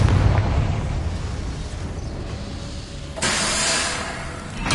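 A Confringo fire spell bursts in the Hogwarts Legacy video game, giving a loud, broad rumbling blast that fades and then swells again into a second hissing roar near the end.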